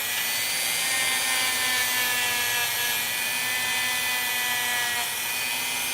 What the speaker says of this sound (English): I'm not gonna polish every inch of this ring. I'm only gonna polish areas.